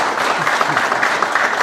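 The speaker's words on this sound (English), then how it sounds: "let's give him a round of applause." Audience applause at an awards ceremony, a dense, steady wash of clapping from a crowd that fills the whole moment without pause.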